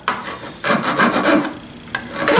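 A hand file rasps against a metal screw in close, harsh strokes: one short scrape, a longer run of several back-and-forth passes, then a brief pause and a couple more strokes, with no voices.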